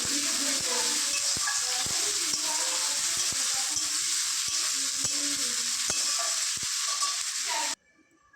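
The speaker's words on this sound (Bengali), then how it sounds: "এবার আমি আলুটা ভালো করে ভেজে নিই।" Potato pieces frying with spices in a pan, sizzling steadily and loudly while a utensil scrapes and stirs in repeated strokes, before the sound stops abruptly near the end.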